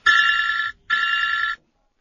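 A telephone ringtone plays two bright, electronic rings, each lasting under a second, with a short gap between them, then stops. The rings are clear and close, with no talk over them.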